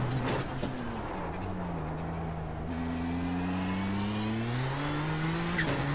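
Race car engine in the iRacing simulator at Circuit Gilles Villeneuve, a loud, close, continuous drone accelerating steadily, with a quick upshift midway before the pitch climbs again.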